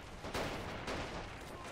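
Gunfire in Men of War: Assault Squad 2, a brief dense volley of distant shooting with a couple of louder bursts, under a steady battle din.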